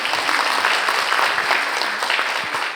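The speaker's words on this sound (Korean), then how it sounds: "여러분 큰 박수 부탁드립니다." Loud, sustained applause from a lecture audience welcoming a business-school professor onstage for a talk on big data and AI, dense clapping throughout that tapers off slightly at the end.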